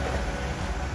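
A JR 221 series train passing a curve on a Kansai main line, a steady rumbling wash of wheels and wind, close and continuous without any clear onset or fade.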